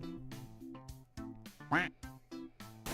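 A cartoonish duck quack rings out once, loud and sharp, over an upbeat musical backing with chiming tones, used as a chat alert during a streamed duck race game.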